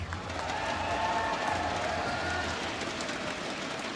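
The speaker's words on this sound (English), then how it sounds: "Give a cheer for MVP Black!" A crowd cheers and applauds for MVP Black, an esports team, at the BlizzCon 2017 Heroes of the Global Championship grand finals arena. The roar is loud and steady, with a broad wash of noise that holds for the whole stretch.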